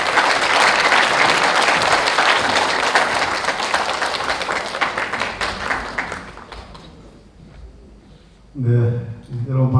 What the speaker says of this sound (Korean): 뜨거운 박수로 맞이해 주시기 바랍니다.